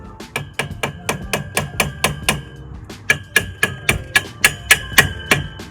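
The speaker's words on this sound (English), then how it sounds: "I'm going to use my hammer to push it all the way through" Sharp metallic hammer strikes drive a bolt through a polycarbonate basketball backboard in a steady rhythm, about a dozen blows, a short pause, then another quick series of hits, close and loud.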